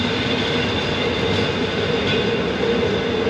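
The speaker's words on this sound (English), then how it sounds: "it's some length of a train" Loud, continuous rumble of a moving sleeper train in Bucharest, steady rolling rail noise with a faint hiss throughout and no pauses.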